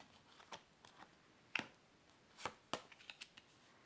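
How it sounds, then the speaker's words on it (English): Tarot cards are shuffled and drawn in a quiet room, giving a few soft, sharp slaps and flicks spaced irregularly, close but faint. "I'm going to pull 3 cards"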